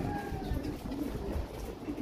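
Young pigeons coo softly in a loft, low murmuring calls under a steady rumbling background, faint and continuous.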